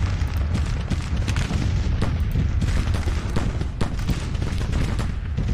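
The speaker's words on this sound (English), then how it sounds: "Start firing on these guys." Rifle volleys in the Civil War strategy game Grand Tactician, dense overlapping musket fire and distant booming crackle rolling continuously and loudly without pause.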